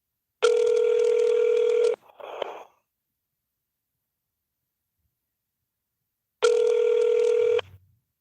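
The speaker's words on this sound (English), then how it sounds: "During the silent transfer, you may hear beeps." Two long electronic telephone beeps from a crisis line call transfer, separated by several seconds of silence, with a brief breathy noise after the first.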